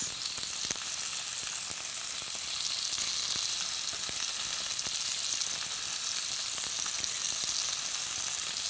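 Bite-sized pieces of meat sear in a hot pan for a bento box, giving a steady, dense sizzle with faint crackles and no talk.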